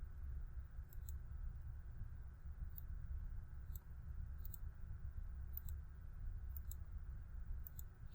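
A computer mouse clicks faintly and sparsely, single and double clicks spaced irregularly over a steady low hum.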